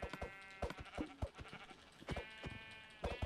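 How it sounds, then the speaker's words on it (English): Sheep in the Minecraft video game bleat repeatedly in short, close, clear bursts, several calls overlapping with brief gaps between them. "Oh, look, there's a black sheep up here."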